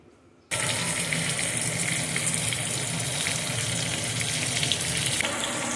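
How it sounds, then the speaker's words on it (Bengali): Washed, peeled potatoes drop into hot oil and fry with a steady, dense sizzle that starts abruptly and holds loud and even, with no one speaking. "আলুগুলোকে ধুয়ে ছাড়িয়ে পরিষ্কার করে রেখেছি, এবার এগুলোকে চট করে ভেজে নিই"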